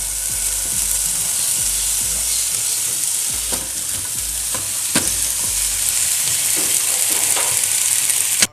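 Chopped peppers and pak choi fry in a hot pan, a loud, continuous hissing sizzle up close with scattered stirring clatters, ending abruptly, no voices present.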